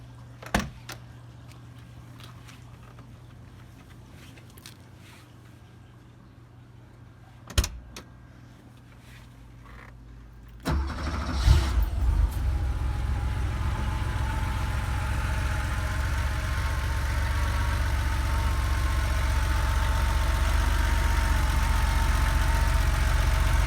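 A 1984 Porsche 911 Carrera G-Series with its 3.2-liter engine turns over and starts after quiet handling sounds and a door, then settles into a steady, loud, even idle that runs on to the end.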